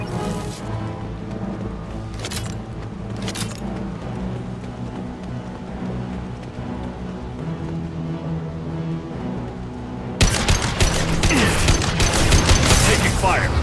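Gunfire in the video game Mass Effect 2: a couple of brief shots early on, then a dense, loud burst of rapid fire near the end over a low mechanical hum.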